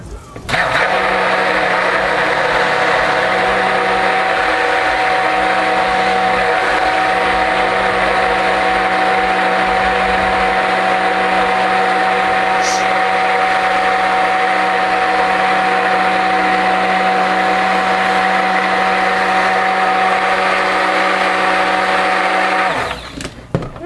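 A stick blender mixing oatmeal, milk and honey soap runs continuously at a loud, steady whine for over twenty seconds, then cuts off abruptly.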